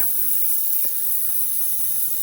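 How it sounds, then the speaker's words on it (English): Iwata Custom Micron airbrush with a 0.23 nozzle spraying Caribe Blue candy paint, a steady soft hiss of air running throughout, close and even with no talking. "I have a Caribe Blue in my airbrush. I'm working with a custom Iguana Micron."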